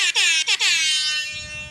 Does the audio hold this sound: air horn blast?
yes